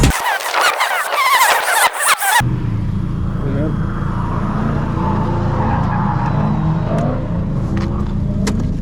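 A Nissan Silvia drifts in a loud, crackling burst, then its engine drones on steadily and more quietly, with voices heard during the run.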